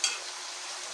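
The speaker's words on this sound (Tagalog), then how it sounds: "Kumukulo-kulo siya. Narinig nyo ba maingay?" A pan of sugar syrup bubbles and hisses steadily for a moment, a soft, dense sizzling boil heard up close.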